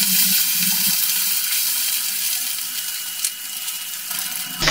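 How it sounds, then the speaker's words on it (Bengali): Chapila fish, washed and rubbed with salt and turmeric, frying in oil, a continuous dense hiss and crackle of sizzling close by with no talking. "মাছগুলো আমি ভেজে নেব।"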